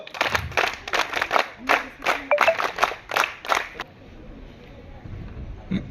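A group at a Bharat Scouts and Guides gathering claps for four new entrants, a burst of sharp, fairly close, rhythmic handclaps for about four seconds that then stops, leaving quiet room sound.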